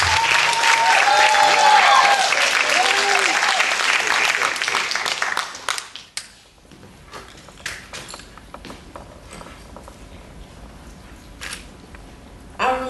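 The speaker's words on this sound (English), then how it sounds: "I want to hear claps or snaps" An audience claps and snaps for a performer at a spoken-word event, with dense applause for about six seconds, then scattered snaps and claps fading into a quiet room with some voices.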